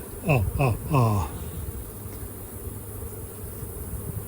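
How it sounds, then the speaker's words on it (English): A low, steady buzzing hum of honey bees around five hive boxes carries throughout, with a few short, sliding tonal calls near the start. "One, two, three, 4, 5 boxes of bees."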